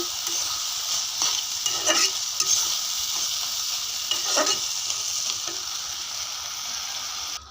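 Potatoes frying and being stirred in oil in a pan for an egg and potato curry, a steady close sizzle broken by several sharp scraping stirs, with no talk.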